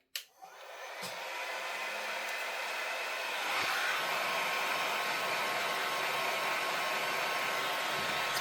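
A heat gun blowing hot air over card stencil work, starting with a click and a rising whoosh, then settling into a steady, close, loud rushing hiss with no talk.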